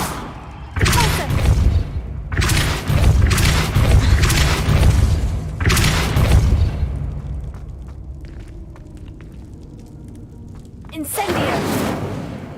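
Repulsor spell blasts go off in Hogwarts Legacy, several loud booming bursts in quick succession followed by quieter rumbling and one more boom at the end. A voice speaks in between.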